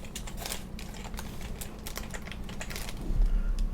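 Rapid clicking keystrokes on a computer keyboard, close and continuous in an uneven rhythm, over a low background hum with no talk.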